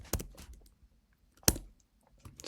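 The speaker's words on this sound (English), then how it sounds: "and then typing the comma button" Keystrokes on a computer keyboard during Excel work: a few sharp separate clicks, near and fairly loud, with short pauses between them and no talk.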